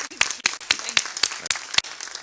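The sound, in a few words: audience applause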